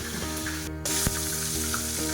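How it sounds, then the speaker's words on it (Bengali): Bitter gourd and onion fry in fish oil with a continuous crackling sizzle, over a steady humming tonal drone, with one sharp knock near the middle. "দিয়ে উচ্ছে দিয়ে আর পেঁয়াজ দিয়ে ভাজা করবো"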